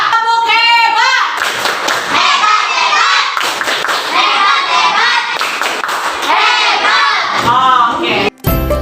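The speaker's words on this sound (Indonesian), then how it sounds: "Tepuk hebat." An Indonesian primary classroom claps together in a quick rhythmic pattern, loud and close, with children's voices chanting and calling out between the bursts of hand claps.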